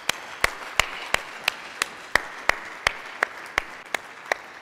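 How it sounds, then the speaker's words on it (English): Sparse, slow applause at a cryptography conference rump session, a handful of sharp distinct claps in a steady rhythm, roughly one every third of a second, close and clear with no talking. "And so also a big applause to you."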